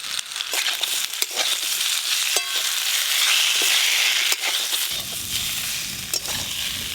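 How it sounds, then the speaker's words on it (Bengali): Chili powder, turmeric and mustard paste stirred and fried in mustard oil in a pan for a sardine curry, giving a continuous sizzle broken by scraping, crackling stirs close up, with no talking. "সর্ষে বাটা দিয়ে একসঙ্গে সব কিছু ভালো করে মিশিয়ে নিয়েছি"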